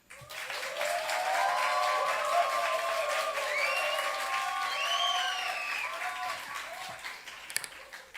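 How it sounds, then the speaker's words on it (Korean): A church congregation applauds at length to welcome a missionary from Thailand, a sustained wash of clapping under faint voices and a tonal melodic line, swelling quickly and tapering near the end. "우리 큰 박수와 환영의 만남으로 만나겠습니다."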